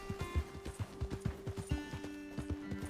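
Horse hooves clip-clopping in Red Dead Redemption 2, a steady, rhythmic trot of distinct hoof strikes on hard ground, fairly close and moderately loud, with faint background tones and no speech.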